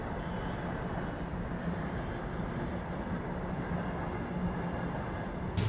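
The Humsafar Express rolls slowly through Ballabgarh, a steady low rumble of wheels and carriages with faint metallic squeals, continuous and even throughout, no voices.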